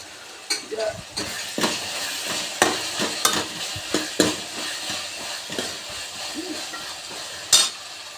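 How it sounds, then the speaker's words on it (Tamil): Onions and tomatoes fry with a handful of rock salt while a spoon scrapes and knocks against the pan in a steady, uneven rhythm over a constant sizzle, close and fairly loud. "வெங்காயம் தக்காளி வணங்குறதுக்கு ஒரு கைப்பிடி அளவு கல்லுப்பு போட்டுக்கிட்டா டக்குன்னு வணங்கிடும்"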